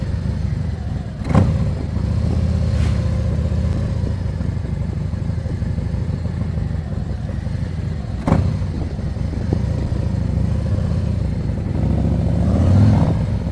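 Harley-Davidson Road Glide motorcycles run through a private riding lesson, a steady engine drone with mild revving and a couple of sharp clatters, with wind noise, heard at moderate distance for over ten seconds.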